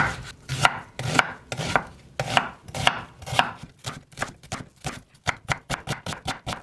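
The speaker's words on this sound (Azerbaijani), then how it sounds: "Onu qəşəng doğrayıram və qovururam." A knife chops onion on a cutting board in crisp, regular thuds, slower at first and then quickening into a faster run of close taps, with no speech.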